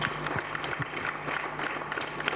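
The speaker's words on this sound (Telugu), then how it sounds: "ఒకసారి హార్ట్ఫుల్గా క్లాప్స్ కొడదాం" An audience claps steadily and densely for the chief guest at a gathering for schoolchildren, a continuous patter of many hands at moderate volume.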